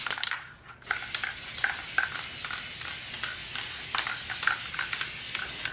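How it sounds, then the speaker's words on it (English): A steady, hissing spray of metallic gold aerosol paint, briefly paused near the start, then continuing in long sustained bursts close to the listener. "I'm going back in with the same metallic gold spray paint and covering the entire thing"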